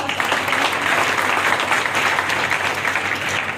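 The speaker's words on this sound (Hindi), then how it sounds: "इसके लिए बिटिया के गौरवान्वित करने के लिए सभी से चाहेंगे कि एक बार जोरदार तालियों से इसका स्वागत करें।" Loud, dense applause from an audience welcoming a student being honoured at a gathering in Azamgarh, a steady wash of many hands clapping throughout.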